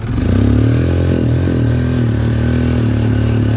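A 2000 Arctic Cat 300 4x4 ATV engine held at top throttle, a loud, steady mid-pitched drone with a slight clatter, sustained near and alone without any pause.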